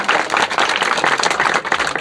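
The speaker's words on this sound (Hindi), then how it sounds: "इसलिए आप लोग ताली मत बजाइए।" Villagers at an outdoor gathering clap loudly and steadily, a dense, continuous wash of applause from a close crowd with no break.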